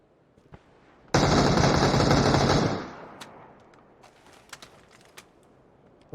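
Automatic gunfire in the battle-royale game PUBG: one loud, continuous burst of rapid shots lasting about a second and a half, followed by a few faint clicks and taps.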